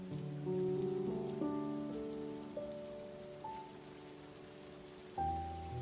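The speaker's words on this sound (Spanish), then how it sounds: "estar en casa escuchando la lluvia de fondo" Steady soft rain patters in the background beneath gentle, sustained melodic notes, with no voices present.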